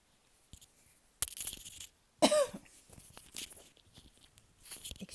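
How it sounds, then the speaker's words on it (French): A few sharp, raspy coughs in separate bursts, close and fairly loud against a quiet background with faint rustling. "J'en ai perdu ma voix et ça m'a fait tousser."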